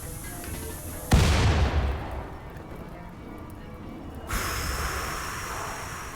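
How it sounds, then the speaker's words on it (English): Grenades going off in the RimWorld Anomaly video game: one sharp, loud blast that decays into a long rumbling hiss, then a second, duller burst of noise a few seconds later, with no talking. "Those are grenades."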